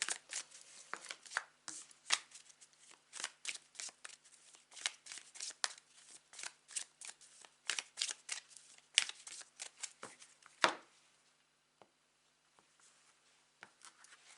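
Tarot cards being shuffled by hand in a quiet room, with a rapid run of crisp riffling and flicking bursts that thin out near the end, with no talk.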